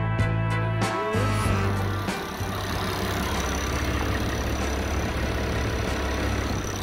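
An International Harvester 1066 tractor engine idles steadily and loudly nearby, a constant deep diesel drone with a few clanks and knocks in the first seconds.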